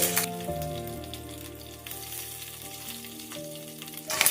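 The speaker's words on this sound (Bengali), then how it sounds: "এই তেলের মধ্যেই আমি দিয়ে দেবো একটুখানি পাঁচফোড়ন, 4টে কাঁচা লঙ্কা আমি চিড়ে রেখেছি, সেটাও দিয়ে দেব" Panch phoron spices and four slit green chillies hit hot oil in a pan, giving a steady, close sizzle with crackling that bursts louder at the start and again at the end, with no talking.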